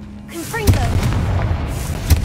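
A Confringo spell from Hogwarts Legacy goes off with a sharp booming blast, followed later by a second deep thud, over game ambience with a short spoken incantation beforehand.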